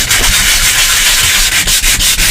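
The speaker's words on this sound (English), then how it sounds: "So the next job would be to get some sandpaper." Dry, steady scratchy rubbing of 120 or 180 grit sandpaper worked over a miniature room box piece, close and loud with brief regular pauses between strokes, no voices.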